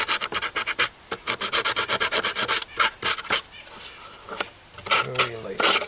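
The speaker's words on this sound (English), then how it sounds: "Very lightly sand it." Sandpaper rasps lightly over a tube tester case in quick back-and-forth strokes, a rhythmic close-up scratching that pauses briefly near the end as a voice speaks.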